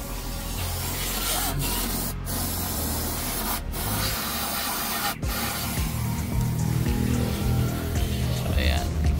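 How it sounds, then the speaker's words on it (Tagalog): An aerosol spray hisses continuously while cleaning the solenoids under a DA64V automatic non-turbo van, a loud steady rush with a few brief breaks between bursts. "tapos nag-spray na tayo dito ng mga solenoid sa ilalim"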